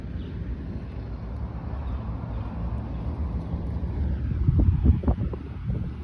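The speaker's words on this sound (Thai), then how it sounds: "วันนี้ลมเย็นดีจังเลย" Wind blows outdoors through an acacia woodland as a low, steady rushing that swells toward the end, with a few soft thumps close by.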